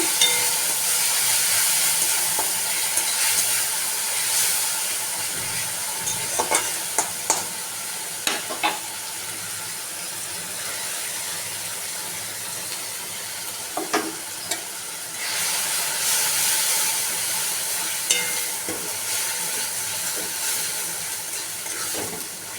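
Grated tomato sautéing in hot oil with mustard and poppy seed paste, a steady close sizzle with scattered stirring scrapes throughout.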